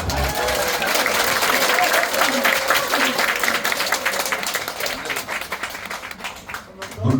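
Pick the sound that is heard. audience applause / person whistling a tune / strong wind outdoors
audience applause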